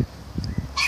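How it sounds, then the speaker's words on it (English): A newly adopted dog gives a few soft, short whimpers and yips close by, followed by a brief brighter burst at the end, with no talking. "But that's my new dog."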